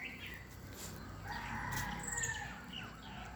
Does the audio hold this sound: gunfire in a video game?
no